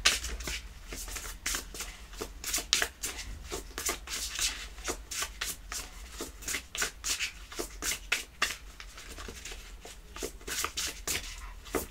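A deck of tarot cards is shuffled again and again in a quiet room, giving close, crisp riffling and rubbing bursts in an uneven rhythm for the whole stretch, with no voice over it.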